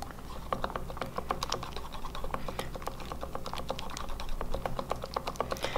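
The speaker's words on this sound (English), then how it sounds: "just whisk it enough to where it's like a thick paste" A whisk rapidly scrapes and clicks against a mixing bowl while beating clay-based hair color into a thick paste, a dense run of quick, close, light ticking strokes with no talk.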